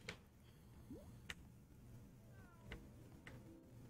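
A cat in the Lego Harry Potter video game gives a short, faint meow amid quiet game ambience, with sharp percussive clicks and a few soft tones scattered around it and no talking.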